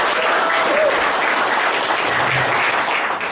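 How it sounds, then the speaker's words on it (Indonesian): An audience at a farming seminar gives a steady, dense round of applause, the clapping continuous and even at close range for its whole short length, with no one speaking over it. "Boleh tepuk tangan"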